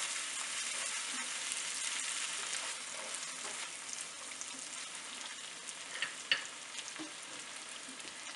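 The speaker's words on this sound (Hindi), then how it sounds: "लहसुन और अदरक को मिक्स करेंगे।" Garlic and ginger fry with onions in a hot pan, a steady close sizzle with occasional crackles and stirring scrapes near the end, no voices.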